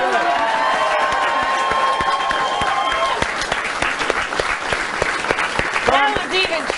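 A television studio audience bursts into loud, sustained applause, dense clapping with some cheering and voices mixed in, easing slightly toward the end.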